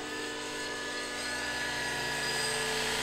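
A model helicopter flies steadily, giving a continuous high-pitched whine with a buzzing rotor drone that holds close and loud throughout, with no voices.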